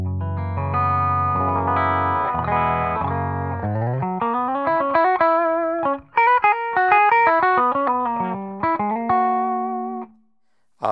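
An electric guitar on its bridge humbucker through a clean channel plays a run of chords and single notes, bright and sustained, ending with a brief silence before another strike.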